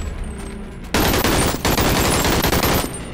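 Rapid automatic gunfire from a gun in the VR game BONELAB, a loud sustained burst starting abruptly after a quiet moment, briefly pausing, then continuing as dense repeated shots to the end.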